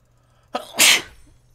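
A single sharp human sneeze bursts out close by, with a short inhaled lead-in and then a loud, airy expulsion, set against a quiet background.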